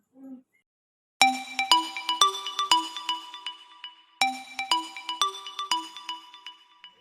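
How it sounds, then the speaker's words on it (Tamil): A mobile phone rings with an incoming call. Its bright electronic melody plays two repeated phrases of quick rising notes, clear and fairly close, after a brief murmur at the start. "ஐயோ அண்ணியரை ஃபோன் போட்டுருக்காங்க."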